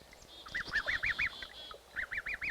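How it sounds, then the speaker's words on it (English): Newly hatched goslings with down barely dry, hiding in tall weeds, give repeated high peeping calls in two quick bursts of four or five chirps each, close and fairly clear over a faint background. "Goslings newly hatched, down barely dry, seeking refuge in the tall weeds."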